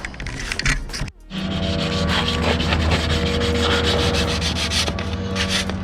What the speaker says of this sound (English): We are going to try to sand back as much as we can without killing ourselves with work, and paint them